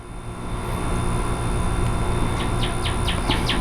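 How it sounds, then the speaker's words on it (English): Outdoors, a songbird lets out a quick run of short, bright chirps late in the moment, riding over a steady wash of background noise with no one talking. "Mr. Bird's up there singing a song."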